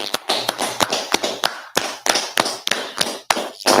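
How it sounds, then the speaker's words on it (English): A small group of people claps in rhythmic bursts, sharp close hand claps repeating steadily with brief pauses between sets, loud and alone with no talk. "All right, let's clap it up."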